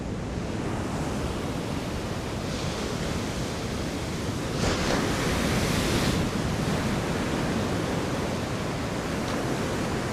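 Ocean surf breaking on a beach during striped bass surf fishing, a steady broadband wash of waves with a louder swell of crashing water midway, continuous and close with no voices.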